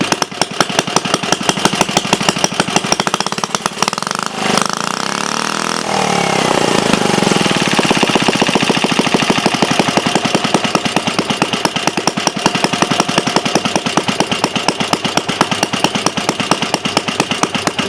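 A small Briggs & Stratton engine with a glass head runs loud and close, chugging with a rapid, steady rhythm after a brief uneven stretch, continuing without pause.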